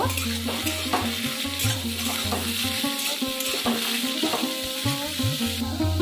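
Potato, radish, snake gourd, eggplant and taro fry in hot oil with a steady close sizzle, under continuous stirring and scraping of the pan.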